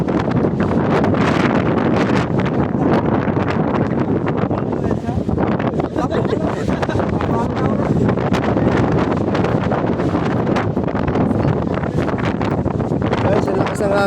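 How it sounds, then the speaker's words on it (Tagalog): Strong wind buffets the microphone at a Tagaytay people's park, a loud, continuous roar with gusty rustling throughout, while voices talk faintly beneath it. "ang lakas ng hangin"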